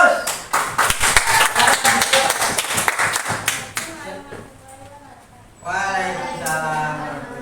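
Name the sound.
audience applause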